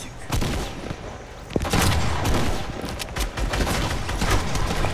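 Dense gunfire in a shooter video game, loud sustained volleys of shots with sharp individual cracks throughout.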